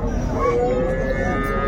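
A cow at the Raniganj cattle market in Dinajpur, where dairy cows and calves are sold, lets out one drawn-out moo amid a dense murmur of crowd noise.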